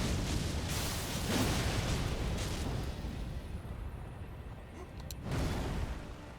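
An explosion in the video game Elden Ring produces a loud, rumbling roar that fills the whole stretch, easing slightly before a second swelling burst.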